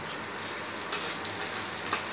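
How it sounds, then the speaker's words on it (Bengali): Garlic frying in a pan while fish jhuri is cooked, a steady broadband sizzle with faint scraping stirs from a spatula, fairly quiet and continuous throughout. "আরেকটু ওটা ভাজা হোক, রসুনটা আরেকটু ভাজা হবে"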